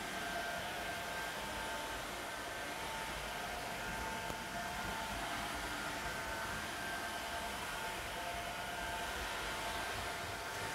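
A Rainbow vacuum cleaner runs steadily at close range, giving a loud, continuous whooshing roar with a faint whine throughout, and no talking.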